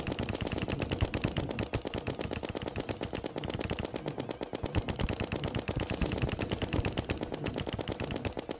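Rapid automatic gunfire in the video game Terraria, a dense, unbroken stream of sharp shots that fills the whole stretch, loud and steady with no pauses or voices.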